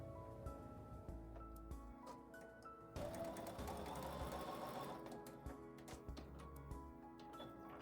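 A sewing machine stitches a fabric window onto a quilt piece for a wonky house design, its needle running in rapid mechanical bursts with short pauses, close and fairly quiet.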